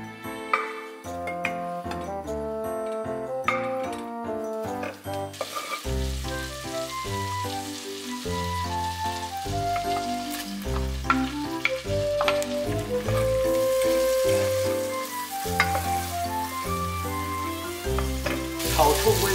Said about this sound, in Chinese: 我们先将牛油跟培根爆炒一下